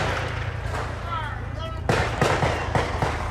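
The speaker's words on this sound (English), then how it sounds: "They shooting like a motherfucker." Sharp gunshot-like bangs ring out during a street riot, a series of loud, irregular cracks in the second half over a noisy crowd, with voices shouting nearby.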